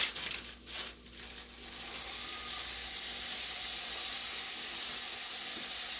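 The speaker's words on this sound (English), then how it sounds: "At this time, that's when I add my mixed vegetables to it and let it cook a little bit with the rice." Rice and mixed vegetables cooking in a pan, a steady loud sizzling hiss that settles in after a few quieter, uneven seconds and carries on alone.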